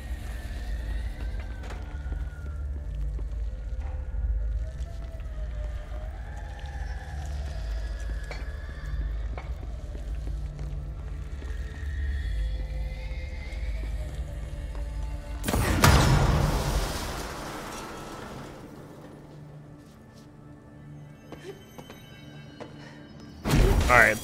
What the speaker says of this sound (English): The other explosion.